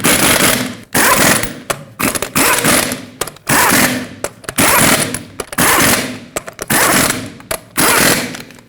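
Loud bursts from an impact wrench driving lug nuts onto a 2011-2016 Ford F-350 rear wheel in a cross pattern, about a dozen sharp rattling hammering runs separated by brief pauses.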